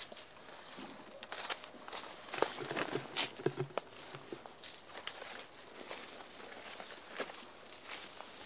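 Rain pattering in the woods, a faint, irregular spatter of drops with scattered louder taps over a soft continuous hiss.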